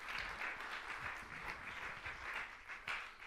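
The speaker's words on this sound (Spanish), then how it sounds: "Denle un aplauso al Señor." Applause from a church congregation at a pastor's service, a steady wash of many hands clapping at moderate distance, fairly faint and continuous with no speech over it.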